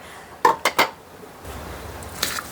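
Cooked mung beans stirred in a pot with a spoon, giving three quick clinking scrapes of metal against the pot followed by a softer shuffling rattle and one final clink, close and fairly quiet with no talk.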